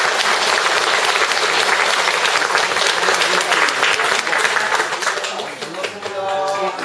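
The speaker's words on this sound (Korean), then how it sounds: "박수로 뜨겁게 환영해 주시기 바랍니다." An audience at a Won Buddhist temple service claps warmly to welcome a guest speaker, dense sustained applause that thins out toward the end.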